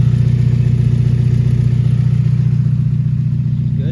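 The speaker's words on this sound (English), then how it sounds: "Don't mind the lifter tick." A 1991 Mazda Miata engine idles steadily up close, a smooth low hum with a fast, even lifter tick running under it the whole time.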